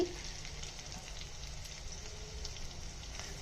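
Steady, continuous sizzling of spices frying in hot oil, close up, with no one talking.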